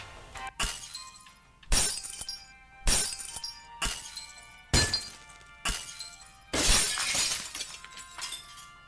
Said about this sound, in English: Like this shattered copper variant. Here's what it does.